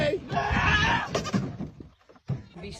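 Bleating from a goat stuck with its head pushed through a gap on a farm, loud and close, a few strained cries in quick succession before a short pause and a fresh burst.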